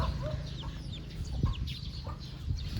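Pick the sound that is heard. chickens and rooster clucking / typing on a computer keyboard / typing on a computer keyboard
chickens and rooster clucking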